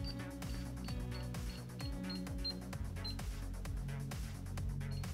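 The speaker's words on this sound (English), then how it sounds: "notice there's sounds as I'm pressing the key" A DSC Neo alarm panel keypad gives a rapid run of short, sharp buzzer beeps as its keys are pressed, steady and close, with faint room noise between them.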